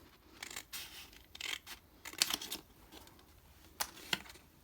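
Scissors snipping through a paper junk journal tag, a close series of crisp rasping cuts in irregular bursts, alone without talk.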